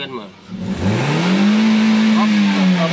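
A Toyota Vios engine under diagnosis is revved hard, its note climbing from a low idle into a loud, held high-rpm drone over about two seconds.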